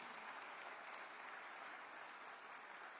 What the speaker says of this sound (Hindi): तालियां बजती रहें लगातार